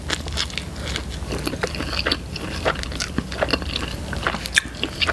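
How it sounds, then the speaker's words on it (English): Close crunchy bites and chewing on a beef brisket sandwich with beer cheese and onion strips on a pretzel bun, with moist smacking and crackling textures repeating. "let's try the beer cheese beef brisket with beer cheese. It's on a pretzel bun"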